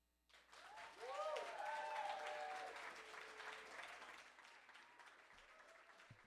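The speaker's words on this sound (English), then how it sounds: "Keep that applause going, everyone" An audience at a Canadian individual poetry slam breaks into applause after a quiet start. The clapping swells quickly, with voices and cheers over it, then tapers off gradually.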